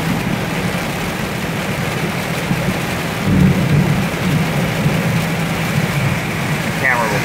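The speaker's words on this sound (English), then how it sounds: "Camera will probably not do all this loud ass thunder any justice." Heavy thunder rolls and rumbles through a steady downpour of a severe thunderstorm in North Charleston, South Carolina, loud and continuous with a deeper swell midway.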